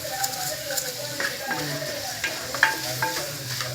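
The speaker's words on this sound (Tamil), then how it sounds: "கொஞ்சம் கல்லுப்பு போட்டு தக்காளி வதங்க விட்டால் தான் கொஞ்சம் சீக்கிரம் வதங்கும்." Tomatoes with rock salt sauté in a pan with a soft, continuous sizzle, broken by occasional spatula scrapes and light taps, heard close at moderate loudness.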